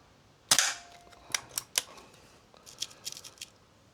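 An S400 air rifle fires one sharp, loud crack at a paddle target, followed by a series of lighter metallic clicks and knocks as the rifle is handled or recocked, close and without talk.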